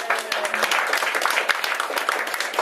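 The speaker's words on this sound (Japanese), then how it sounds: "大きな拍手。" Audience applause at a live music event in Japan, with loud dense clapping from a nearby crowd and faint talking mixed in.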